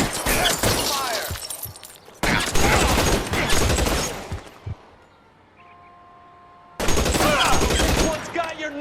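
A volley of gunfire bursts out after a fire command: loud, crackling waves of rapid shots come in two long runs, fall away into a brief quiet stretch, then start again.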